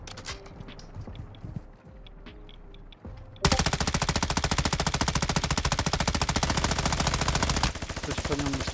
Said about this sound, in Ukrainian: Хтось по ньому стріляє.